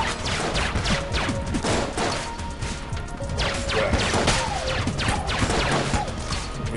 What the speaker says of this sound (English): I'm going to dodge their bullets and return with bullets of my own in rapid succession